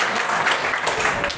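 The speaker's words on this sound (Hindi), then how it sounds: "चलो ठीक, जाओ जोरदार ताली हो जाए इसके लिए" Students clapping together in a classroom, a brief burst of dense, close applause that runs steadily for about a second and a half.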